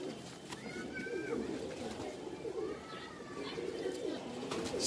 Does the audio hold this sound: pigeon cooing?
yes